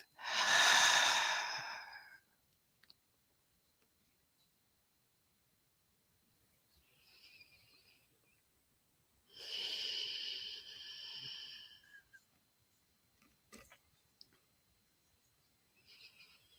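Slow, soft exhalations during a guided meditation, two long airy breaths out separated by quiet, with a fainter breath in between, close and gentle with no talking.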